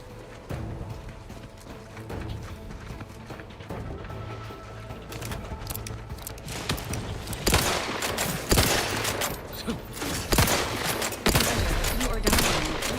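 Gunfire in The Outer Worlds, a rapid fusillade of shots building over a dense game soundscape, getting louder and sharper toward the end with repeated close cracks.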